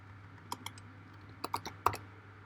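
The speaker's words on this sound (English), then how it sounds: "So for that you just have to type print" Typing on a computer keyboard during a Python coding lesson: a few quiet, sparse key clicks, then a short burst of several quicker keystrokes, over a low steady hum.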